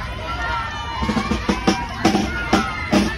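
A street rally procession crowd fills the air with a dense hubbub of voices and shouts, while rhythmic drum hits grow in and punctuate the noise. Everything sounds close and busy, with no single voice standing out.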